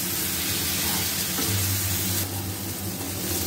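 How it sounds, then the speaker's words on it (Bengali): Washed Gobindobhog rice frying with cumin in a pan produces a soft, continuous sizzle and hiss, close and even, with no talking. "একটু ভেজে নেব চালটা লাল লাল করে।"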